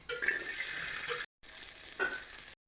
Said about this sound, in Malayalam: അതിലേക്ക് കുറച്ച് വെളിച്ചെണ്ണ വയ്ക്കുന്നുണ്ട് അതിലേക്ക് ഒരു അമ്പത് ഗ്രാം ചെറിയ ഉള്ളി ഇടാം